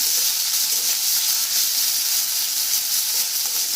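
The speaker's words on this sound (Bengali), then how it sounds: "পেঁয়াজটা ভাজা হয়ে গেছে" Onions frying in a little oil for homemade chicken nuggets, giving a steady, close, even sizzle with no pauses and no talking.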